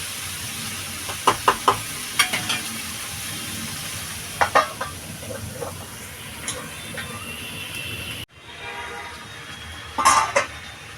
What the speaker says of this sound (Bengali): এটা ভালো করে কষাবো সবজিটা